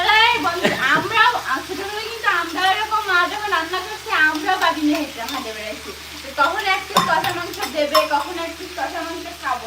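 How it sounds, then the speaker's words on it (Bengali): Meat being braised and stirred in a pan for Bengali kosha mangsho, a steady sizzling fry with stirring scrapes throughout, close and fairly loud, while people talk over it. "মাংস কষাচ্ছি নাকে ঝাঁজ লাগবে"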